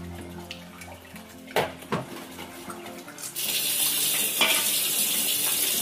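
Mustard greens leaves being washed in water: splashes and handling clatter at first, then a steady loud gush of running tap water filling the rest, without speech.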